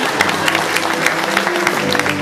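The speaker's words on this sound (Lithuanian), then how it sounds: "šioje vietoje visą laiką publika ploja" An audience claps through a school centenary celebration, dense steady applause with a murmur of crowd voices, loud and close.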